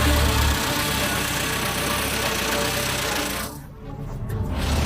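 An old abandoned military truck engine, found in a forest after long sitting underwater in a hole, runs with a loud, rough, rattling idle that dips briefly before picking back up.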